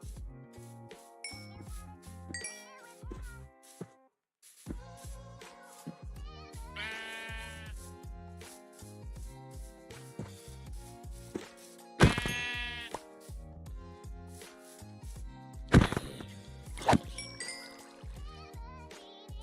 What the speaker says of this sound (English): Here's some sheep.